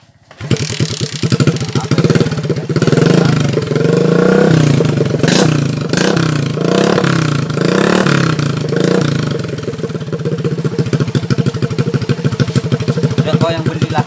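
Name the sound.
Suzuki Shogun R 110 motorcycle engine running after overhaul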